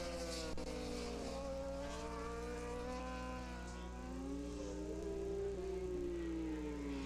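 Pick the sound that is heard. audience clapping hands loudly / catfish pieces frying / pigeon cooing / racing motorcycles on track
racing motorcycles on track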